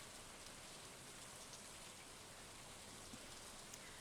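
Steady, dense in-game rain from Stardew Valley pours continuously as a loud, even hiss of drops on surfaces, with no pauses or voices.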